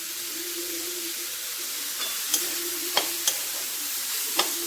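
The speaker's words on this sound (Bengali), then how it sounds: "খুব ভালো করে ভেজে নিচ্ছি একটু আলতো করে।" Spring onions frying gently in a pan for chicken momo soup, a steady soft sizzle throughout with a few sharp crackles and pops, close by with no talking.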